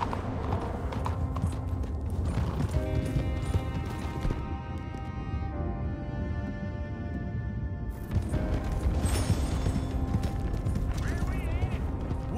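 Horse hooves in Red Dead Redemption 2 clop steadily at a trot, close and continuous across the whole stretch, with game characters talking over the rhythmic footfalls.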